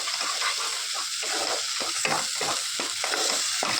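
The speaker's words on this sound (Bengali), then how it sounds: "মশলাটা অনেকক্ষণ ধরে ভেজে নেবো যতক্ষণ না কাঁচা মশলার গন্ধটা যায়" Spice masala with chilli powder frying in a pan for a prawn and pointed gourd curry, a dense continuous sizzle broken by rhythmic stirring strokes throughout.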